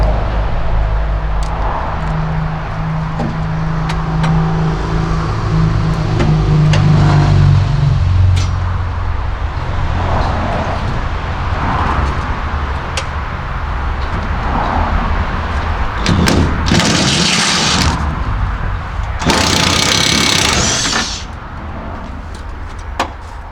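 An impact gun driving a nut during a Mini restoration, heard as two short, loud, rattling bursts near the end, preceded by workshop noise and a low running hum.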